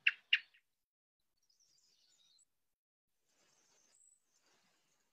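Bird song played back from the Merlin Bird ID app opens with two short, sharp chirps, followed by faint, thin high twittering in otherwise near silence.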